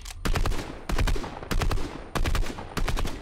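Rapid bursts of automatic gunfire in Fortnite, four or five loud close volleys separated by brief gaps, with no talk over them.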